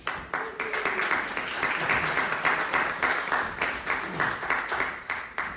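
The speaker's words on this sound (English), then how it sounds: "That applause tells me it's time for something truly special." An evening theatre audience at the Great Escape Stage Company applauds the Kik & Rosewood stage show, a steady wash of many hands clapping throughout with rhythmic pulses, fairly loud and sustained.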